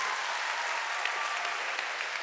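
An audience at The Shia Voice talent show finale in London applauds after a performance, producing a thick, continuous wash of clapping throughout, with no talking.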